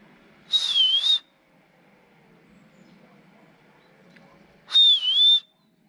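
Two shrill whistle blasts, each under a second with a dipping pitch, sounded to call a dog in a Bulgarian mountain village, separated by several seconds of quiet outdoor background.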